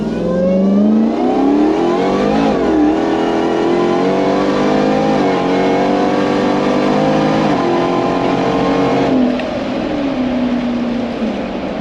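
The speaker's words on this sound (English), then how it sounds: "Listen to that supercharger whine." A supercharged 840 hp Jeep Wrangler engine accelerates with a high, rising supercharger whine riding over the roar, revs surging and easing several times; loud and close, no voices.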